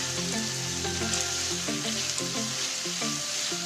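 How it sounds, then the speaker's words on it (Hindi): Minced meat (keema) frying with turmeric, salt and spices in a pan, giving a constant close sizzle under a bed of tuneful music with faint stirring ticks, and no voices. "और 2 मिनट तक बस इसको फ्राई करूंगी ताकि मसाले अच्छे तरीके से कीमे के साथ फ्राई हो जाएं।"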